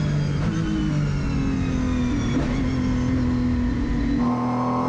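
An Aston Martin Vantage GT3 race car engine drones steadily and loudly on an onboard lap at Silverstone, its pitch shifting slightly through a corner exit with no talk over it.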